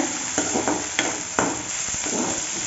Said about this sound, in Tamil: பெரிய வெங்காயம், கொஞ்சம் கருவேப்பிலை, இதெல்லாம் போட்டு நல்லா வதக்கி விடுங்க